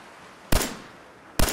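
Two sharp, loud gunshots crack out from raiders in Fallout 4, spaced roughly a second apart, each with a brief tail over a low background hiss and no talking.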